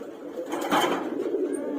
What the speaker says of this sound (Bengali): এখন আস্তে আস্তে কবুতর বের করতেছি